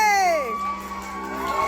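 An audience at Kryal Castle, a medieval-style venue, cheering and shouting together, with children's high voices rising in a loud yay that sweeps downward and then settles into a sustained crowd roar.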